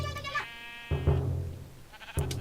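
Minecraft sheep bleat close and loud, a wavering cry followed by a few shorter, rougher bleats in quick succession, with no talking.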